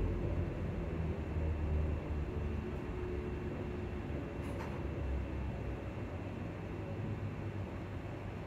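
A train rumbles steadily as it arrives at Edinburgh Park station, with a broad, continuous roar of wheels and motors from inside the carriage and a faint brief high squeal midway.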